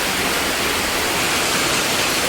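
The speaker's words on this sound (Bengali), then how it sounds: "এখানটা দিয়ে কেমন করে জলটা হুড়ু করে যাচ্ছে" Water rushes steadily through a drain as a loud, continuous broadband roar with no breaks and no voices.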